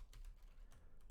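Brief, faint typing on a computer keyboard, a few soft key clicks in a quick uneven burst, heard up close in a quiet room.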